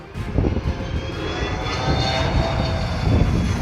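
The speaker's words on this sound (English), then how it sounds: "This landing plane hit wind shear, causing it to almost crash." Landing fixed-wing airplane hits wind shear, its engine roaring as a steady, loud, broad rumble that swells slightly across the clip.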